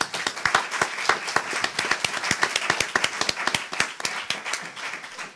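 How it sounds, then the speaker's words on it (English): A modest audience at a conference on financial development in Latin America and the Caribbean applauding to welcome presenters: sparse, distinct individual claps in a steady close-by patter without talk. "please join me in welcoming them with a warm round of applause"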